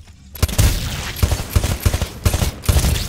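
Rifle fire in the Titanfall tutorial firing range, a rapid string of sharp, loud shots in quick bursts with brief pauses between them, close and dominant with no talk over it.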